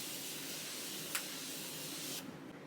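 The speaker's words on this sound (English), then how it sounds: "I'm just going to go in with this Continuous Prep and Mist Setting Spray by Morphe." Morphe Continuous Prep and Mist setting spray being misted close up, a steady fine hiss lasting a couple of seconds with a brief sharper spurt partway through, then cutting off abruptly into quiet room tone.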